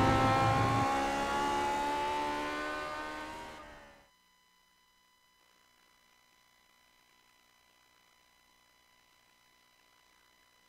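A race car in the Grand Prix Legends video game at Road Atlanta, its engine loud and whining with rising revs for about four seconds before cutting off abruptly, leaving only a faint hum.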